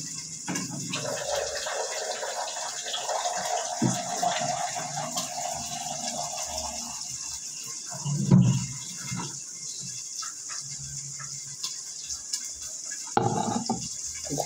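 Water running steadily from a kitchen tap while cooking, a continuous hissing stream that eases off partway through, with a few clinks and a short louder splash near the end.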